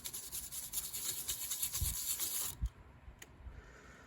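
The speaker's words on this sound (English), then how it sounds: "Let's try my toothbrush here. This is a medium strength toothbrush," A medium-bristle toothbrush scrubs back and forth across a chrome-plated Revell plastic model wing in a quiet, continuous rasping rub that stops abruptly after a couple of seconds, leaving faint scattered scratches.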